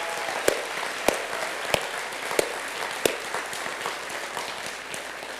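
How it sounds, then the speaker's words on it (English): An audience at an aviation heritage foundation gala gives a sustained round of applause, a dense wash of clapping with a few louder, sharper claps standing out near the front. "So let's give them a big round of applause."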